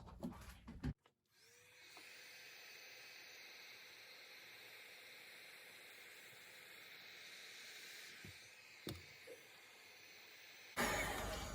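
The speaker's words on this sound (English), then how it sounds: "when you're heat shrinking the edges again, some advice is do not hold the heat gun in the same spot for more than like 2 seconds" A heat gun blows a steady, hissing stream of hot air across the edges of tint film on a car taillight, running continuously for about ten seconds between brief clicks, with no one talking.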